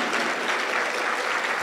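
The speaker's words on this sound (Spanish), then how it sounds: "Dele un aplauso fuerte para el Señor Jesús." A church congregation applauding, dense, steady clapping from many hands, loud and close, filling the short stretch without a break.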